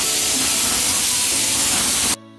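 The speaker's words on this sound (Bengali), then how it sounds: "আমি এখন চিকেন ভাজছি ফর চিকেন স্যালাড" Chicken frying in a pan for a chicken salad gives a loud, steady hissing sizzle that holds for about two seconds and then cuts off abruptly, with no voices.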